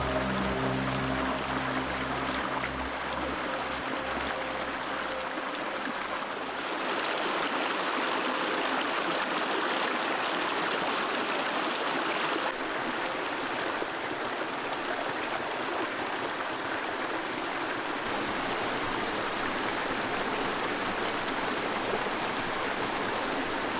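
A small mountain stream in Slovakia's Low Tatras flows beneath a makeshift wooden footbridge, giving a steady, close, continuous rush and burble of water with no talking.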